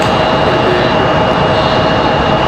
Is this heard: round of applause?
no